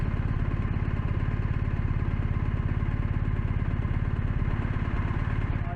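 Steady engine drone of a 2022 BMW R1250 RT boxer-twin motorcycle under way, a continuous, even rumble with constant loudness throughout and no talk.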